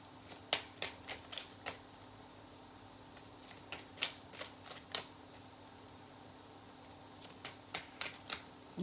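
Tarot cards are shuffled close by in two bursts of quiet, crisp riffling flicks, separated by a pause, over a faint steady hum.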